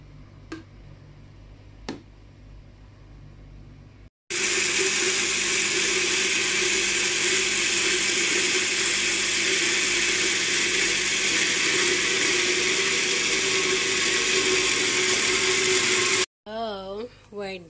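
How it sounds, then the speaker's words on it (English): An electric blender whirs loudly and continuously through batter with added oil for about twelve seconds, after a few quiet ticks, then cuts off abruptly; a voice follows briefly afterward. "We blended for 15-20 seconds."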